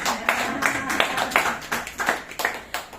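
People gathered at an office meeting clap in a short, fairly regular series of distinct claps, about eight bursts in three seconds, moderately loud and close, with a faint voice underneath.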